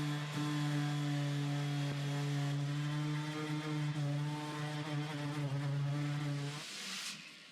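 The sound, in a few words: power sanding a DIY car-top boat with 80 grit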